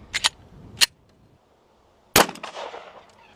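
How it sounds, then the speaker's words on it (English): A full metal jacket 9mm round from a Glock 19 fired at a common padlock: a couple of sharp cracks early, then one loud close impact burst with metallic clatter and a short ringing tail. "We'll see if the 9mm will be able to break open our lock."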